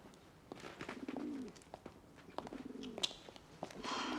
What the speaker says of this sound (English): there's another strange pigeon in the basket